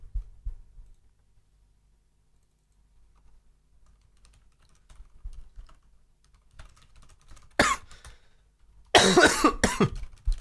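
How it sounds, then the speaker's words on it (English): A man coughs and clears his throat, starting with faint keyboard typing and clicks, then two loud, close bursts of coughing near the end. "I'm gonna try and get my cough under control."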